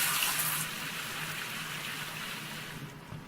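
Water from a bucket gushing into processing equipment in the Gold Rush video game, a steady, fairly quiet pouring rush that holds evenly, stronger at the start, then tapers off near the end.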